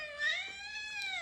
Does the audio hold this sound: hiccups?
no